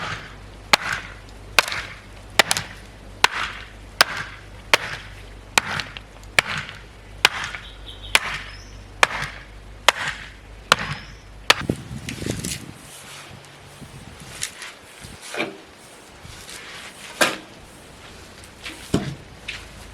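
Gravel in a bird bath base tapped level with a tool, a regular series of sharp close knocks about twice a second, then a few scattered louder thwacks and rustling toward the end.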